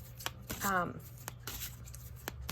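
A Wise Dog tarot deck being shuffled by hand, heard as a few short, crisp riffling and tapping bursts close up, with a brief voice sound partway through.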